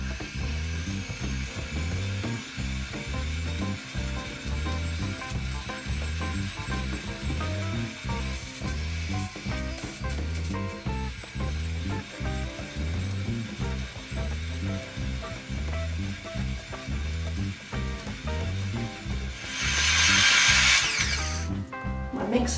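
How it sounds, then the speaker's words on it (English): An electric stand mixer creams butter and sugar for a sugared rhubarb cake, whirring loudly and steadily with a strained, laboring rhythmic churn throughout, and a brief hissy burst near the end. "Mixer sounds as though it's not very happy."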